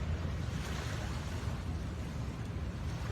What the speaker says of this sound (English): Like look at the waves, they're just going with the flow.